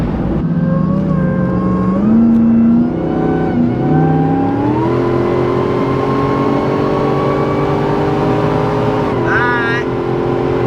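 A Jeep engine revs and pulls hard while driving, loud and close, with the pitch climbing in stepped gear changes before it settles into a steady drone; voices talk over it.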